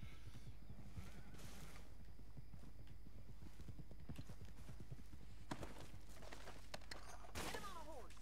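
Steady clip-clop of horse hooves in the video game Red Dead Redemption 2 at a trotting rhythm, with occasional louder bangs and a brief whinny-like cry near the end.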